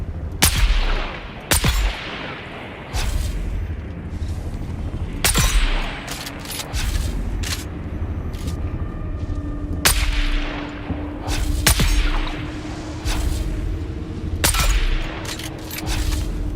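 Gunfire in the Dune Awakening video game: sharp, loud single shots spaced a second or so apart, some in quick pairs, each cracking over a low ambient hum with a faint tone in the background.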